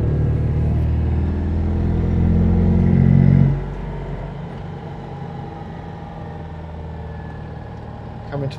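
A Citroën 2CV's small engine lapping Silverstone circuit, a loud steady in-car drone that swells for a few seconds and then drops to a lower, quieter hum, continuous with no talking.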